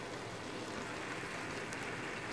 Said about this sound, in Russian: Снег тает, дождь идет.